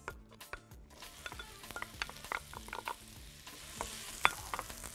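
Chopped large onion frying in oil in a pan, a soft steady sizzle with frequent clinks and scrapes of stirring, close and moderately quiet, no talking.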